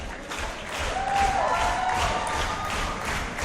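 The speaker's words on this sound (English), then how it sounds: "You hear this West Newton crowd," A West Newton wrestling crowd cheers and applauds steadily at a live independent wrestling event, a dense, continuous roar of clapping and shouting that holds throughout.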